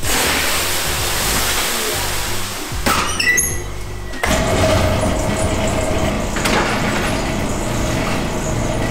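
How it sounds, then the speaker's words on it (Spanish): Water hits the hot floor of a bread oven at a bakery and bursts into hissing steam, a loud rushing spray that cuts off sharply, then settles into a steady hiss. "Agua para provocar vapor."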